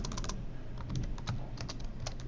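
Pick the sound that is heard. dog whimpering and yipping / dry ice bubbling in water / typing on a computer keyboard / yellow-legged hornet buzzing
typing on a computer keyboard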